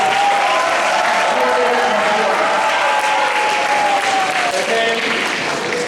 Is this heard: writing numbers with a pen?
no